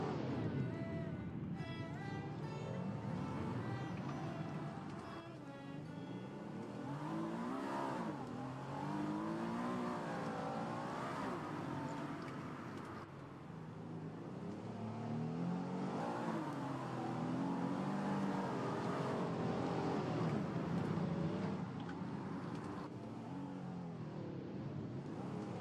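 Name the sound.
car accelerating engine sound in Roblox racing game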